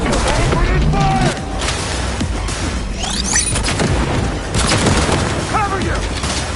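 Gunfire and explosions in the video game Cyberpunk 2077 Phantom Liberty, a loud dense battle of rapid shots, booms and crashes that fills the whole stretch.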